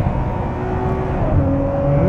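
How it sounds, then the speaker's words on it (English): A Ferrari 599 GTO's engine blips and revs through a downshift, a steady close-up roar with rising tones toward the end, heard alone without voices. "the sound when it downshifts, it sounds so much like a race car"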